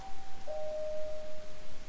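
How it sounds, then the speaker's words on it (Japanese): An intercom doorbell pressed in a Japanese horror video game, a single clean electronic chime tone held for about a second over a quiet low background. "インターホンを押し、お線香をあげに来たと伝え"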